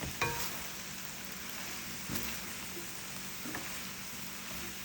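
Pork potstickers frying in sauce in a pan, giving a steady, close sizzle that runs throughout, with a few brief clinks of a utensil stirring against the pan.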